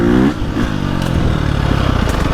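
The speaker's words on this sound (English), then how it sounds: "when it starts revving, it's going to make some power" A 2025 KTM 350 XCF dirt bike revs hard off-road, its loud, close engine note climbing and then holding a rough, throbbing drone with some clatter.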